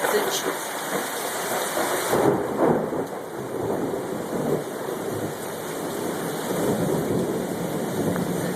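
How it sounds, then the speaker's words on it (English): Heavy rain pours steadily in a tropical storm likened to a hurricane, with rumbling thunder swelling beneath a constant broadband wash; a few voices speak faintly in the background. "Oh, it looks like a hurricane."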